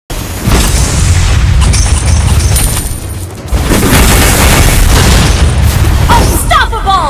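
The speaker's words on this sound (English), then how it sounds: "Our turret has been destroyed." Heavy booming blasts erupt in a Mobile Legends battle as a turret is destroyed, with a loud, sustained roar of explosions and effects throughout, briefly dipping in the middle before surging again.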